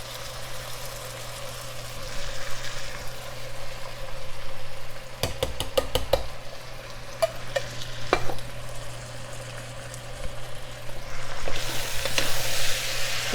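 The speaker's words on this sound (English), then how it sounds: "Give those a good stir." Beans (red kidney, black and cannellini) being stirred in a sizzling pan: a steady frying hiss with a brief burst of scraping stir strokes near the middle and more clatter at the end, no talking.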